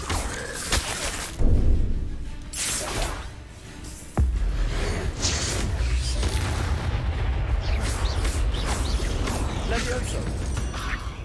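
An Incendio fire spell bursts out in Hogwarts Legacy combat: a heavy whooshing blast followed by a sharp boom, over continuing rumbling battle noise with game voices.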